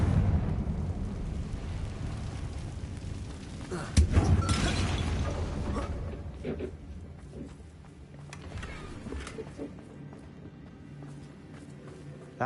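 Confringo blasting spell exploding at a bridge in the Hogwarts Legacy video game, a sharp blast followed by a rumbling, crumbling roar that fades gradually over several seconds, with scattered smaller impacts afterward.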